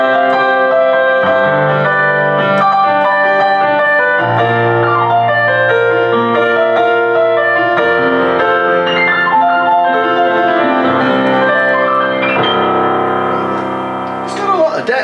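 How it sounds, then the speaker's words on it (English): A Bentley digital baby grand piano on its studio grand setting plays rich notes and chords continuously, resonant and full, with melodic runs and sustained bass tones filling the room. "This is the studio grand piano."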